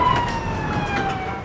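A Mexican Federal Police siren wails steadily behind a rumbling vehicle, its tone sliding slowly, with a faint thin whine running through the noise.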